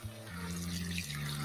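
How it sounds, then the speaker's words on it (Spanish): Water is poured into a pot of rice with octopus stock and vegetables, a steady close splashing stream running continuously over a low background hum. "El resto le vamos a echar de agua."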